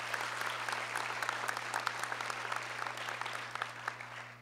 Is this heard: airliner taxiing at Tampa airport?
no